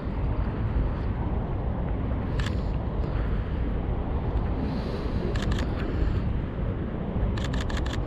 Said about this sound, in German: man hört deinen Auslöser bis da hinten.